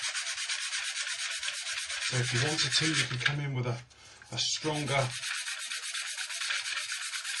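Sanding stick rubbing down glue seams on a Trumpeter 1/32 plastic Corsair model kit, a steady close scratchy rasping that runs throughout, with someone talking over the middle stretch.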